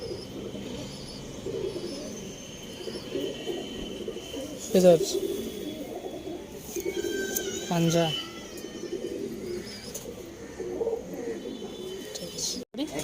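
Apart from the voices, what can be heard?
pigeons cooing in a loft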